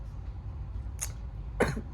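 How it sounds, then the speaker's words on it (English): Two short coughs, the first light and the second harsher, against a quiet low hum with no talking. "When I cough, it really, really hurts."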